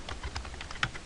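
A sticky computer keyboard is tapped in a quick run of about eight close, crisp keystrokes over a faint steady hum, with no one speaking.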